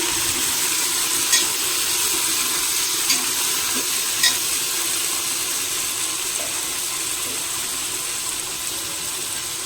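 Green chillies and mint frying in a pan for mushroom kurma, a soft, steady sizzle close by with a few faint clicks and scrapes of stirring, no voices.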